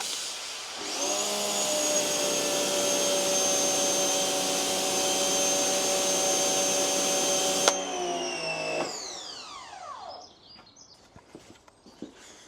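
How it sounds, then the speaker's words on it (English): A Grandfalls Giraffe pressure washer sprays steadily for about seven seconds with a loud, even motor whine and hiss, then the pitch sweeps down as it cuts off, leaving faint clicks and handling noise. "This is on the Grandfalls Giraffe pressure washer."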